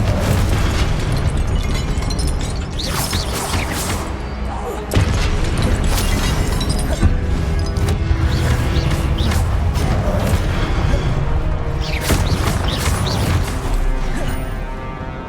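Repeated fiery blasts of the Confringo spell in Hogwarts Legacy, loud booming explosions and crashing bursts stacked densely over a dense game soundscape for the full stretch.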